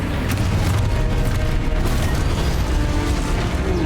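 Spell blasts from the video game Hogwarts Legacy form a dense, loud, continuous wash of booming bursts and crackling impacts, layered one over another without pause.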